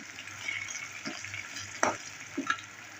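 Crushed small onions frying in a little hot oil give a soft, steady sizzle, broken by a few sharp scrapes and clinks of a stirring spoon against the pan.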